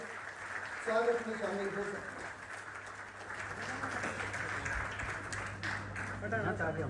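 An audience at a Hindavi Swaraj founding festival in Delhi breaks into applause that swells from the middle onward and holds steady, with a voice speaking over it throughout.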